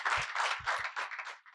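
A short, close burst of clapping from an audience welcoming a speaker to a session, with a few dull thumps mixed into the applause.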